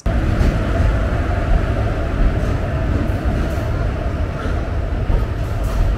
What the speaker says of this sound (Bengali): সেখানে হাজির হলো পুরী থেকে শালিমারগামী ডাউন জগন্নাথ এক্সপ্রেস।